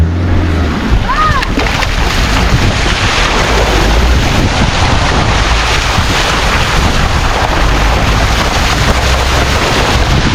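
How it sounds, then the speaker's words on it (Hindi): A car drives through a water crossing on a high-altitude Ladakh road between Nubra Valley and Pangong Lake, with loud, continuous splashing, churning water and rumbling engine noise, plus heavy wind buffeting the microphone. "वाटर क्रॉसिंग, अब यहाँ आइडिया नहीं है मुझे कितना गहरा होगा"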